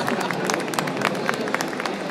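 An audience at a tech conference stage, the Petrobras stage at Campus Party Brasil, applauds with steady, crackling clapping that fills the space, with voices underneath.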